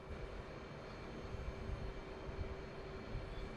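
F/A-18 Hornet making an arrested trap landing on an aircraft carrier in DCS World, a steady loud jet engine roar with rumbling low end and a faint constant whine, continuous throughout with no distinct impact spike.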